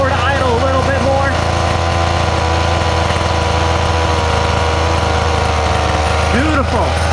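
A Redcat Rampage TT nitro RC truck engine idles close and loud, rich-running and smoky, with a constant buzzing drone throughout. Faint rising whines come at the start and near the end.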